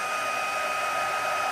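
A steady, loud blast of hot air from a heat gun used for heat embossing, a constant whooshing hiss with a high whine, running alone without pause.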